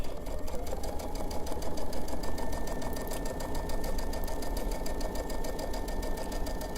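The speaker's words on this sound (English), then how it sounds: "Now we're gonna go sew that together. Do a little back stitch." A sewing machine stitches a fabric face mask, its needle whirring in a steady, loud, close mechanical rattle that runs without a break, with no talking.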